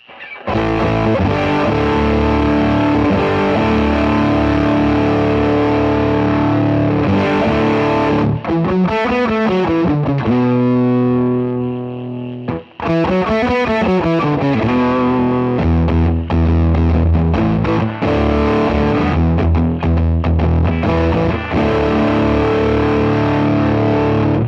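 Electric guitar through a Cornerstone NERO Fuzz pedal with its bias knob turned left, loud saturated fuzz chords ringing and sustaining, with a brief gap midway before the strumming resumes.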